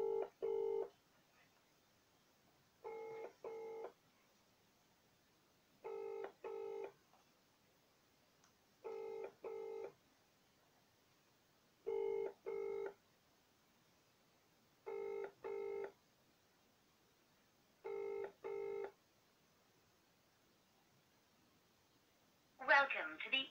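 A house telephone line sounds a quiet repeating tone in paired bursts about every three seconds, eight times in all, with silence between. A brief voice cuts in at the end.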